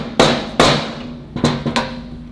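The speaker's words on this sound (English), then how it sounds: "Again, with your mallet, just a couple taps." A mallet taps a component of a Graco airless paint sprayer on site, several sharp knocks: two spaced hits, then a quicker cluster of three, close and fairly loud.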